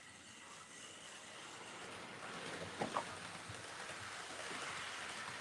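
Model railway trains run on track in a home garage layout, giving a continuous faint rolling rumble with a couple of brief clicks partway through and no talking.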